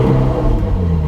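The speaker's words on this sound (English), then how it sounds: "I'm going to fire the car up real quick" A Ferrari 458 Spider's engine fires up, heard from the cabin as a loud, deep rumbling burst that settles into a steady idle.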